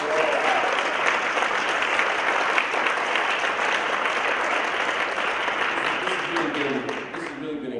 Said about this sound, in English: Can you give these 4 panelists another round of applause?